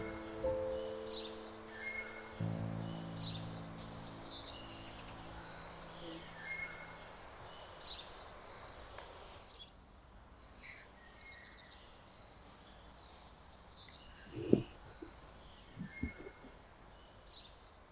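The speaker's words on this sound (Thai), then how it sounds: "เสียงนกร้อง" Faint birdsong chirps and trills drift through a soft outdoor hiss, with a few sharper knocks near the end; distant and quiet, no talking.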